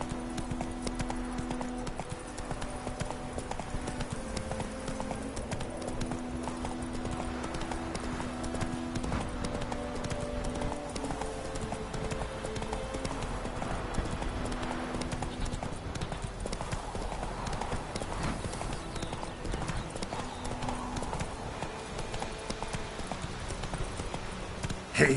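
Horse hooves clip-clop in a steady, continuous rhythm as the animal is ridden, a moderately close walking gait that carries on throughout with light background ambience.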